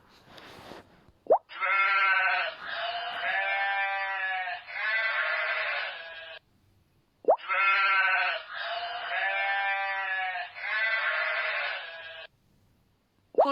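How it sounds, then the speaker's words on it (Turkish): Sheep bleating in two long sets of wavering, harmonic calls, each with several bleats in a row, a short pause between the sets, close and clear with no talking. "Koyun."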